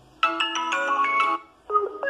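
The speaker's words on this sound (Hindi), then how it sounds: "यहाँ पे बहुत सारे रिंग टोन निकल चुका है जो भी इस फोन के सेटिंग्स में है, तो मैं आपको दो तीन चला के दिखाता हूँ" A Vivo Z1 phone plays a melodic ringtone: a bright run of chiming synthesized notes, then a short pause and a second, simpler tone phrase, loud and close with no talking.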